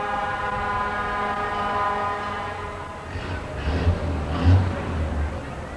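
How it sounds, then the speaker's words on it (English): A low, steady rumble of old truck engines with a droning harmonic hum, swelling a little louder toward the end, as the vehicles idle and move nearby during the 1992 Windsor, Canada Day parade. "The engines are a little louder in those older trucks."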